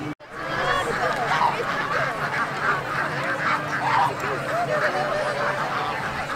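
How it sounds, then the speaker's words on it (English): Many geese and ducks honk and quack together in a duck parade, a dense, continuous chorus of overlapping calls, fairly close and loud throughout. "Right now they're starting a duck parade, which will just be coming up behind us."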